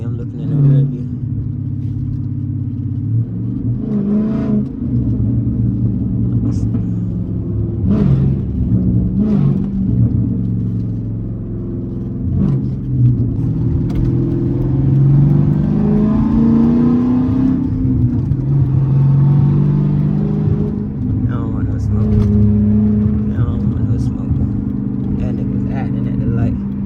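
A Dodge Challenger SRT8 392 driving in traffic, its engine a steady low rumble with a few short revving pulls and the whir of the road, heard from inside the car and mostly without talk over it.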